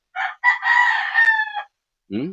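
A rooster crows once loudly and close, a long drawn-out cock-a-doodle-doo broken into segments, followed after a short pause by a brief clucking call.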